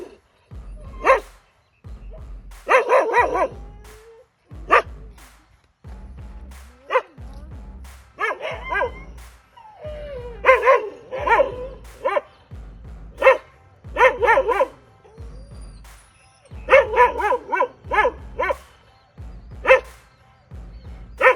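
Kanni breed puppies bark in repeated bursts, loud and close, with short sharp yips and pauses between volleys.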